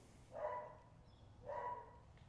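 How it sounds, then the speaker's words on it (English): Two dog barks, about a second apart, moderately close against a quiet background hum. "You can hear the dog barking."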